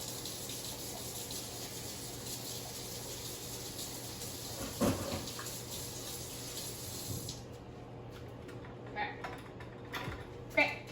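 Water runs steadily from a kitchen tap as mini prep bowls are washed, a soft constant rush that stops partway, followed by a few quiet clinks and handling sounds.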